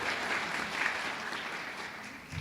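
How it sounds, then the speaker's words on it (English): Audience applause at a school spelling bee final for grades 6-8 fills the room as an even, sustained clapping from a seated crowd. "let's give a round of applause."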